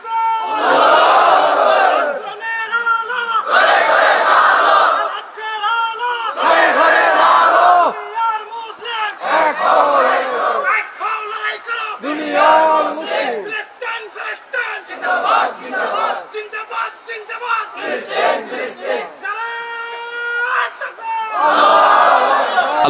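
A crowd at a Bangla Islamic sermon gathering shouts slogans in loud, rhythmic massed bursts, each call separated by short pauses and repeated over and over.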